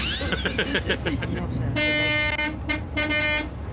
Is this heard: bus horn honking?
yes